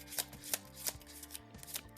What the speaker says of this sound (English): I don't know why I'm shuffling my deck again